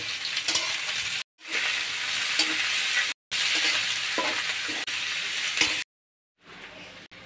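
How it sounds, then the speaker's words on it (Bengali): Chopped onion and garlic sizzle steadily in hot mustard oil with bay leaves, a loud close frying hiss that is broken by short gaps where the sound cuts out, with occasional stirring scrapes. "আমি এখন পেঁয়াজ রসুন কুচি ভেজে নেব"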